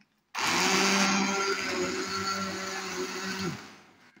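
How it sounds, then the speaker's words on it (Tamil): A blender grinds a tomato and lentil mixture, whirring loudly for about three seconds, starting abruptly and winding down, with a steady grinding drone and no voices. "நான் வந்து பிளெண்டர் வச்சு தான் பண்ண போகிறேன்."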